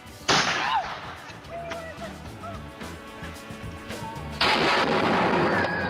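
Loud potato gun firing outdoors, with a sharp blast followed by a long noisy rush and another sustained burst near the end, close by, with voices faintly in the background.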